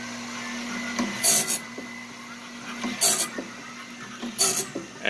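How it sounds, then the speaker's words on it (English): Wood-Mizer bandsaw blade sharpener with its grinding wheel running as a steady hum, broken by three short bright grinding rasps at regular intervals as the wheel meets the blade teeth. "wait for the grinding wheel and the oil to kick in"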